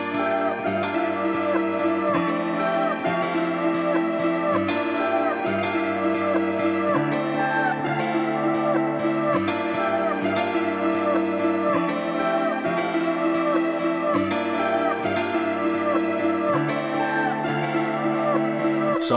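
A full trap type beat plays continuously and loud, its vocal chop melody layered over piano and a pad lead in a repeating looped pattern, with no one talking.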